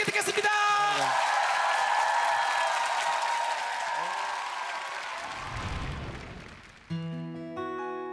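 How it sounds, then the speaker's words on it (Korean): A TV studio audience applauds after a comedic duet performance on a Korean music show: a broad wash of clapping and cheering that swells and then fades over several seconds before a piano melody enters alone. "감사의 박수 부탁드리겠고요"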